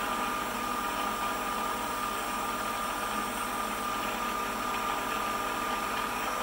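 The spindle of a PM-728V-T milling machine spins at over 3000 RPM, giving a steady, loud mechanical whir with a thin high whine that holds constant throughout.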